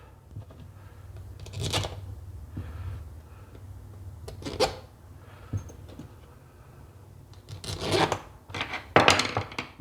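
Lug nuts being threaded by hand onto a wheel after the spacer and star go on, making faint close metallic rattles, clicks and scraping rubs in scattered bursts.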